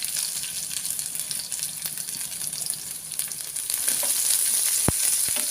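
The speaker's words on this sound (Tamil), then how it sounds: "பூண்டை போட்டு நல்லா மிக்ஸ் பண்ணுங்கள் அந்த இஞ்சியோட" Garlic and ginger frying in a pan for a soy sauce chicken dish make a steady, close, bright sizzle with hissing crackle that swells slightly louder toward the end, with a couple of sharp pops near the finish.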